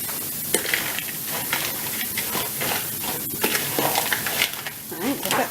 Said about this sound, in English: we'll go ahead and start mixing up this cream of mushroom